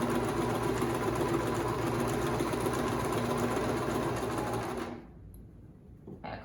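A sewing machine runs a long continuous seam down the side of a homemade fabric mask, a close, steady, fast-ticking hum that winds down and stops near the end, leaving a few faint clicks.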